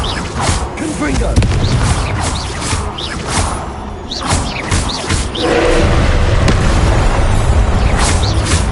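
Fiery blasts from the Confringo spell in a PS4 wizarding game, several booming bursts and whooshes in a loud, dense battle mix with game effects throughout.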